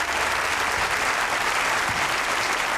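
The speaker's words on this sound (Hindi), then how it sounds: "अब जरा तालियां ठोकें, शोर मचाएं, पागल हो जाए।" A studio audience for a Hindi-Urdu comedy show claps in one dense, steady burst that runs from start to finish without letup.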